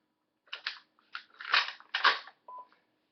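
Antique World War rifle bolt worked by hand: a short series of sharp metallic clicks and slides, five or six distinct clacks close up in an otherwise quiet room.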